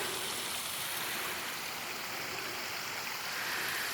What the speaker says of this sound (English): They have a little waterfall set up here.